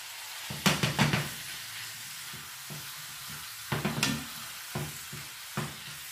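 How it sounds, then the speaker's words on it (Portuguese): Bacon, about 100 grams, frying in a little olive oil, with bursts of sizzling and stirring scrapes clustered in short spells and quieter gaps between, close and moderately loud. "Vamos colocar bacon, 100 gramas de bacon."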